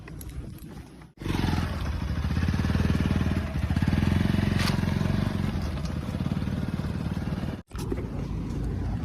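A motorcycle engine runs loudly nearby with a steady throaty rumble that rises and falls as it rides, briefly cutting out twice.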